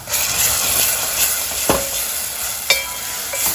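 Green masala fries with softened golden onion in a pan for a pomfret caldine curry, giving a constant close sizzle broken by a few sharp scrapes of the stirring spoon. No one speaks.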